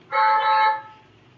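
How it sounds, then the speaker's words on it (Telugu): A children's toy electric scooter gives one short, loud electronic horn beep of about half a second, close and alone. "ఇది వచ్చేసి హారన్"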